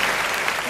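Audience clapping at a Hindi kavi sammelan poetry event, a brief dense burst of applause from the crowd, loud and steady.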